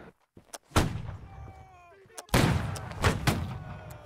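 Musket volleys in the Napoleonic-era line battle game Holdfast: Nations At War, with a few scattered shots and then two loud, booming massed volleys rolling out, while voices shout orders in the background.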